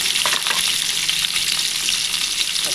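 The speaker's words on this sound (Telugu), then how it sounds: "గుడ్లను కొద్దిగా వేయించుకోండి ఇందులోకి కొంచెం సాల్ట్ వేసుకోండి" Eggs fry in a hot pan with a pinch of salt, giving a loud, steady crackling sizzle that runs without a break, with a few faint stirring scrapes and no voices.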